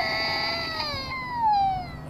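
A house cat lets out a long, drawn-out meow that wavers and slides downward in pitch, close and fairly loud, heard alone over a quiet room.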